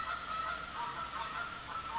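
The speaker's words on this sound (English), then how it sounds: "damn geese." Geese honk repeatedly in a close, loud, continuous chorus of overlapping nasal calls lasting a couple of seconds, with no talking over them.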